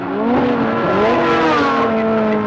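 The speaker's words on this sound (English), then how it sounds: "His engine sounding very thick." A racing car engine sounds loud and close during a race, with a thick, throaty tone that rises and shifts pitch as it revs, continuous throughout.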